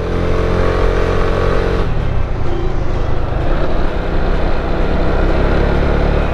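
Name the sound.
Piaggio MP3 500 three-wheel scooter riding on curvy road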